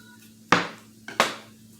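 A knife chops up an onion on a cutting board. Two sharp, close knocks sound about two-thirds of a second apart, with a faint tap just before the second one, over a quiet background.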